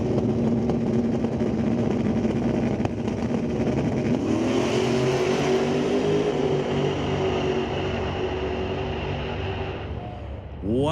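A 2017 Camaro drag racing down the strip at Mission Raceway Park, its engine roaring loudly and steadily as it pulls away before cutting off near the end, with a commentator talking over it.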